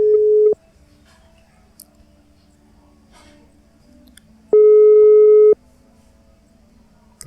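A phone call goes unanswered and a clear electronic tone sounds in two long beeps separated by a gap of quiet line hiss, close and loud.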